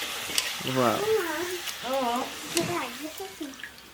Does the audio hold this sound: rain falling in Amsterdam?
no